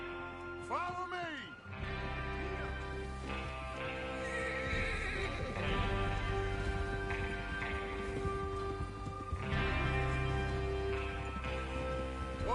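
Horses whinny and hooves clatter in Red Dead Redemption 2 over a rumbling background, with voices and other game sounds mixed in throughout.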